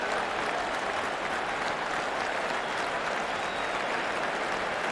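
Crowd at Lord's during the 2023 England v Australia Test giving a standing ovation as an injured Nathan Lyon comes out to bat: sustained, dense applause from a large stadium crowd, steady and unbroken throughout.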